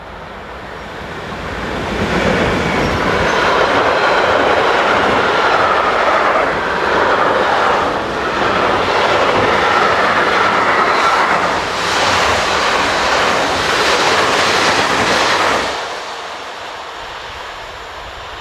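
A Class 185 locomotive hauling a container train rumbles past close by for about fifteen seconds, a loud broad roar with rhythmic clatter of wagons, then fades quickly.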